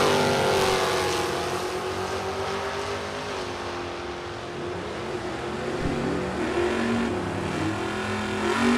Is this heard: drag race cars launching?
yes